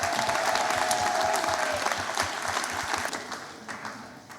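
A graduation audience at RMIT Vietnam's Hanoi City campus bursts into a loud, dense round of applause, many hands clapping at once and tapering slightly toward the end.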